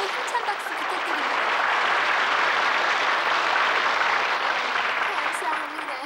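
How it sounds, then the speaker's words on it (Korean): A large audience applauds steadily for several seconds during a 1992 Korean broadcast, a dense wash of clapping that holds even and fairly loud before easing slightly at the end. "여러분, 좀 더 뜨겁고 힘찬 박수 부탁드립니다"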